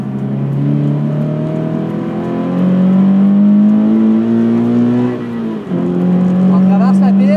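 On a driving course track at St-Eustache, a car engine climbs steadily in pitch under acceleration, briefly dips at a shift, then pulls again, heard loud from the cabin with an instructor talking over it.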